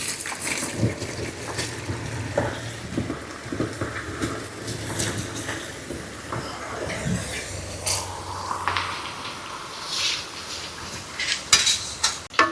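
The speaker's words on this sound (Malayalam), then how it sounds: "നമ്മളിപ്പം അരിഞ്ഞ് വെച്ച ചക്കച്ചോളം ഇപ്പോൾ ഇടാൻ വേണ്ടി പോവാണ്" Chopped jackfruit frying in hot coconut oil, with a low bubbling sizzle under frequent metallic clinks and scrapes of a utensil against the pan, close by and moderately loud.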